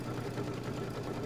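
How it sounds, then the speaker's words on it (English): A sewing machine hums and whirs softly at a steady low pitch as its needle is threaded automatically, a short continuous mechanical drone with no talk. "This is a machine that threads"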